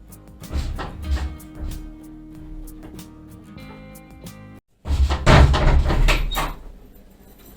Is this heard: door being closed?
yes